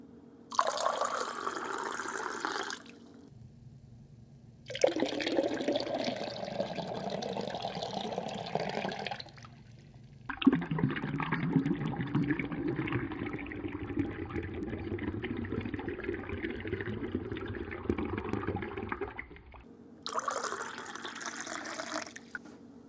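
Liquid pours steadily in several long bursts with short pauses between, a full, splashy gurgle close by, no talking.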